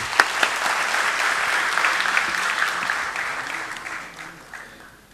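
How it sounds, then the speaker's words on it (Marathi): Applause from the audience at a literary gathering tied to competitive-exam study, steady broadband clapping that holds for about four seconds and then fades away, with no voices over it. "टाळ्या वाजवून एकदा स्वागत करूया."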